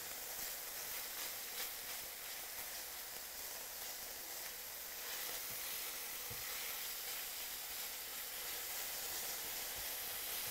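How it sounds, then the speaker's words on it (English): Steady, dense sizzling of ground beef frying in a pan, continuous crackle and hiss throughout with a few faint clinks, no talking. "You can hear the beef sizzling"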